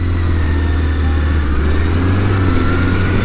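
A Honda CBR1000 motorcycle engine hums steadily while riding, a loud, constant mid-pitched drone with wind noise throughout and no talk.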